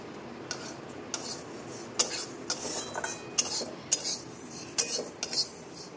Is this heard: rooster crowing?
no